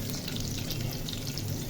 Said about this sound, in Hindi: लहसुन सौते हो रहा है